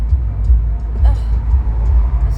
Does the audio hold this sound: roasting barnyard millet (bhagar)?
no